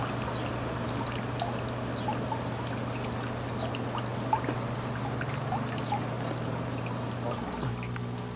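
Water from a tiny pulser pump flows up and spills from a narrow clear pipe, a steady soft trickling and pouring with faint gurgles under a low constant hum, close and continuous.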